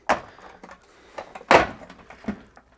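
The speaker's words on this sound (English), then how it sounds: "You can then separate the two parts of the door" Parts of a Samsung ecobubble washing machine door are pulled apart, giving a few sharp plastic clicks and knocks with a louder snap midway, close and separate with quiet gaps between them.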